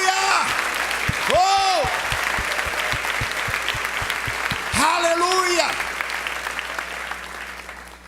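A congregation claps steadily and loudly while a voice sings out exclamations over a sustained keyboard tone, the applause fading slightly toward the end.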